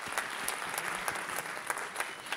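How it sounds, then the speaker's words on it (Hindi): Lively applause from a fair-show audience as a young girl comes up on stage to perform, with sustained clapping and sharp claps standing out near the front. "जोरदार तालियां इस बच्ची के लिए।"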